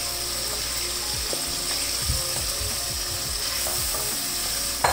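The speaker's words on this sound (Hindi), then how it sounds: "यहाँ पे देखिए जी मैंने मसाले को भूनना शुरू कर दिया है" Masala spices fry in a pan with boiled mutton liver, a steady loud sizzle running throughout while a spoon scrapes and stirs in irregular strokes.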